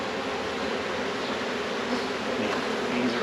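Dense, loud buzzing of bees swarming around an overflowing hive, a continuous close drone with no talking, steady from start to finish.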